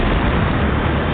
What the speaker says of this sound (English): They run outside and the third bomb goes off.